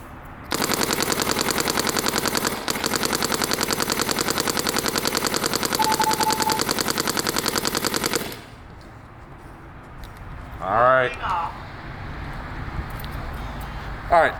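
Paintball markers, a Planet Eclipse CS3 and a Luxe TM40, fire in a rapid, steady stream of pops for about eight seconds, loud and close, followed by quieter outdoor noise and a few brief voices.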